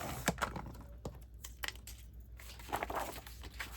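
Strips of material being cut for a bat house, a series of close, sharp snips and crackles in irregular bursts separated by short quiet gaps.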